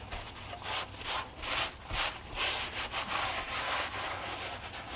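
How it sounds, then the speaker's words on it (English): Hand rubbing over a brown sugar Bigfoot foot cast, a soft, steady scuffing with repeated back-and-forth swells, close and continuous without speech. "So I can just probably just about hand rub this to make it look like an old print."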